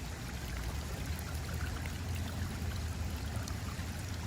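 Water pours into a garden waterfall that feeds a wetland filter, a constant soft rushing stream with an even trickling wash and no voices.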